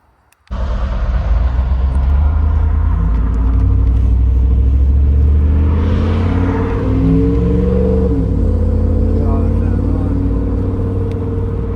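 An old car that had been sitting starts and drives off with a loud, close, rumbling engine that holds steady, then swells as it gets under way. Voices talk under the engine noise.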